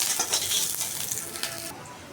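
Garlic frying in a pan gives a soft, steady hiss of sizzling oil, with faint clinks of stirring in a brief quiet stretch.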